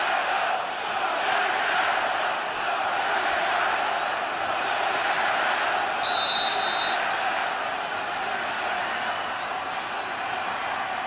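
A Green Bay Packers stadium crowd at a 2008 NFL game against the Lions keeps up a loud, continuous roar of cheering, with broadcast commentary running over it throughout.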